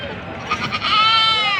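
A goat bleats at a goat market beside horse racing grounds, one wavering drawn-out cry rising close and loud over the market's background noise.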